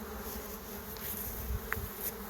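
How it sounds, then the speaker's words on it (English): A honeybee colony hums steadily inside an open hive box in a backyard apiary, a dense continuous buzz at close range with a brief louder bee passing near the end. "A lot of bees down there."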